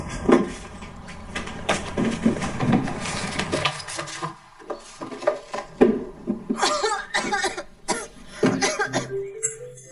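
A person coughs over and over in harsh, uneven bursts that barely stop, close and loud in an indoor room, with a few rustling sounds between the fits.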